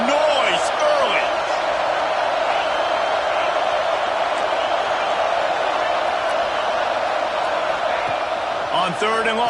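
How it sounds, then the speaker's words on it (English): Noisy stadium crowd at a football game, a continuous loud roar of many voices filling the space, with occasional higher cheers and whoops standing out. "This crowd bringing the energy and noise early."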